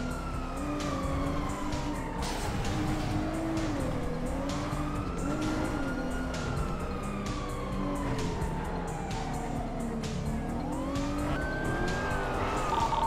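A police cruiser in a video game is started and driven, its engine revving and rising and falling in pitch through gear changes, loud and continuous with no voices over it.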